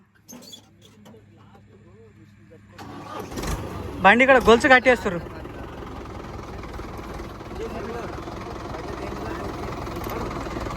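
A Mahindra Yuva 575 4x4 tractor, stuck in mud while hauling a load of paddy, idles and then revs in a loud burst before settling into a steady engine drone, with people talking nearby throughout.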